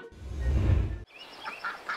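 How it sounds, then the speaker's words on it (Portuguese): Ducks on a pond: a deep, close honking call is followed after a short break by several fainter, higher quacks from the waterfowl. "Os patos."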